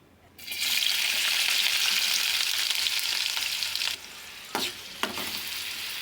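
Onions tipped into hot oil in a kadai burst into a loud, bright sizzle that holds steady for several seconds, then drops off, followed by a few scraping stirs.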